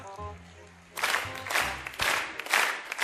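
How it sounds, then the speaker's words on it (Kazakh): Guests at an 80th birthday celebration in a cafe break into applause, a dense burst of clapping that swells and repeats in waves after a brief quieter stretch of low tones. "Бір шапалақ болсын құрдастарға."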